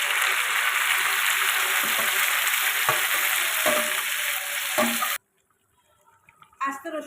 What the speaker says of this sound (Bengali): এখানে আমি মাংসগুলো এবার দিয়ে দেবো।